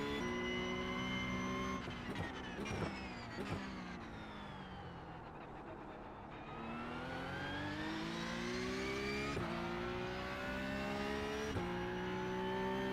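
A race car engine in a sim racing game drones steadily and loudly through a final flying lap, its pitch climbing and dipping with gear changes and braking, with no one talking.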